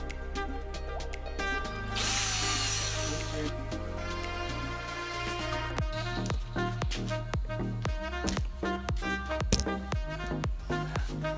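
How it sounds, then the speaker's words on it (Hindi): Ratchet wrench clicking repeatedly while backing out the battery screws on a Piaggio Vespa LX scooter, a brief power-tool-like whir early on, then rapid close pawl ticks in bursts. "बाद में आपको दोनों बैटरी को स्क्रूज रहते हैं वो आपको निकालने हैं।"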